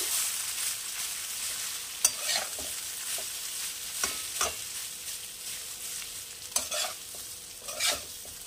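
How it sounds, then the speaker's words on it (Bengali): A spoon stirs vermicelli frying in a pan, giving a steady low sizzle broken by several distinct scraping, clattering strokes at irregular intervals, close and clear with no talking. "নাড়াচাড়া করে নেব একটু।"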